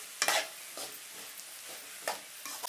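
A spoon stirs a bottle gourd stir-fry mixed with ground coconut in a pan, giving a few soft scraping strokes over a faint, quiet sizzle.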